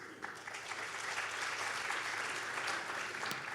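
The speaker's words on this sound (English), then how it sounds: "A big applause to our panelists." A conference audience at a Disrupt Asia panel in Colombo, Sri Lanka claps for the panelists, a dense, steady wash of applause that swells after a quiet start, with a few sharper claps standing out.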